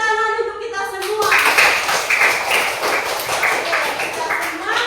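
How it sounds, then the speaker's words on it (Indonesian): Children clapping their hands together in a classroom, a dense burst of claps that starts after a brief spoken lead-in and continues steadily, fairly loud and close. "Tepuk tangan untuk kita semua."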